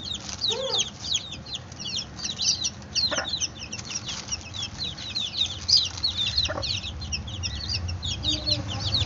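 Chickens cluck and chirp in a steady, busy chatter, with low outdoor rumble beneath and brief sharper calls here and there.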